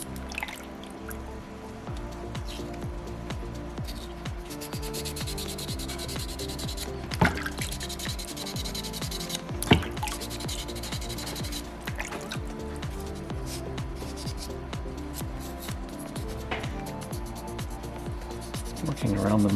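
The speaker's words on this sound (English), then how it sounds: "Run over that spot a little bit with that first grit." Sandpaper rubbing over a small soapstone Moai carving, a steady close scratchy friction sound with a few louder scrapes, continuing throughout with no talk.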